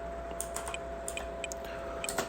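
Keys on a computer keyboard tapped in a quick, irregular string while a command to flash a graphics card BIOS is entered, light close clicks over a steady background hum with no talking.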